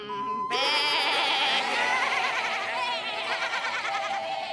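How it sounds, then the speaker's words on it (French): A cartoon goat bleats loudly and steadily in a long, wavering, nasal cry, close and prominent, starting abruptly after a brief tone and continuing with no talk over it. "La première qui arrête de bêler."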